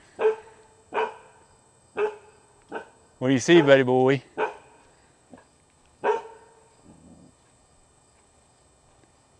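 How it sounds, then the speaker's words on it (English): A young puppy with a bark that is already deepening gives a series of loud, close single barks spaced about a second apart, plus a longer whining, howling stretch midway, with someone speaking briefly. "His bark's already getting deeper."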